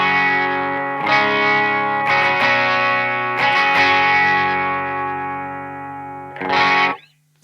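Clean electric guitar through a Way Huge Conquistador pedal into channel 1 of a Victory Kraken amp, with several ringing strummed chords that sustain and decay, then a final short chord, close and alone with only slight breakup.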